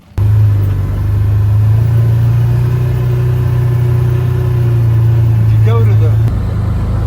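A Can-Am off-road vehicle driving out to a wild hog spot, its engine a loud, steady low drone close up that cuts off near the end, with a brief voice over it.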